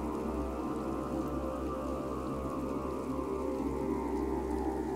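Steady rain falls outside a village post office at night in a Bengali horror cartoon, a continuous dense patter with a low rumble underneath, unbroken for the whole stretch with no voices.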